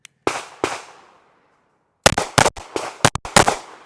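A SIG P365 XMacro pistol firing outdoors: two loud sharp shots with ringing decay, a pause, then a rapid close string of about six or seven shots.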